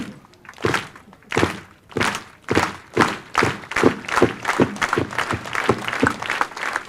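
A crowd at a youth baseball opening ceremony in Pigeon Forge does a slow clap: loud unison hand claps start widely spaced, then gradually quicken into a steady, faster rhythm.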